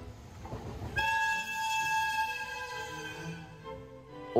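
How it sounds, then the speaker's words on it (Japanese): A Kawasaki Heavy Industries-built EF210 electric locomotive hauling a long freight train sounds a loud, sustained multi-tone horn as it passes close by, over the rumble of wheels on rail. "さあ、そして時間になりまして、機関車やってまいりました。"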